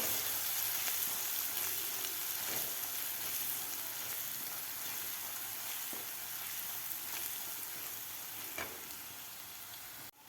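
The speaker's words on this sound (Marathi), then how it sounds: "1 ते 2 मिनिट आपल्याला हे मसाला तेलामध्ये परतून घ्यायचा आहे" Ground masala paste sautés in hot oil for a Maharashtrian stuffed eggplant dish, giving a loud, dense, unbroken sizzle with occasional faint stirring clicks, heard alone without talk.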